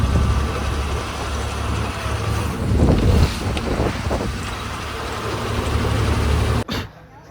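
Boats on the Sharavathi river produce a steady, loud low rumble with wind noise buffeting the microphone, with a brief cut near the end.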